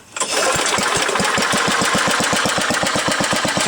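A homemade tractor's small engine catches on a cold start and settles into a loud, steady, rapid thumping idle close by, with no talk.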